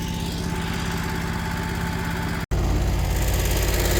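A lawn mower runs steadily at close range while mowing around a big pond at a camp on a fine day, its engine drone broad and continuous, broken by one abrupt momentary dropout midway before resuming slightly louder.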